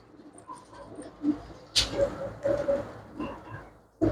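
A pure-breed pigeon with white eyes and ringed feet coos in a few soft throaty bursts nearby, with bird calls, rustling and a brief sharp noise over a quiet background.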